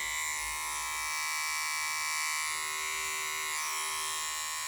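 A Zaza De Luxe corded/cordless rechargeable hair clipper runs with a steady, loud electric buzz close by, unbroken throughout with no talking.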